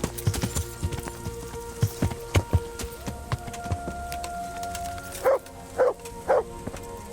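Horse hooves clip-clop along a path in Kingdom Come Deliverance, a steady run of soft clip-clop strikes, followed near the end by three loud, sharp barks from the companion dog.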